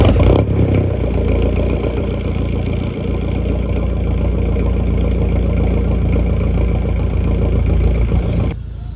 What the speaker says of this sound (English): I need to move the thing to do a cold start on the Bora.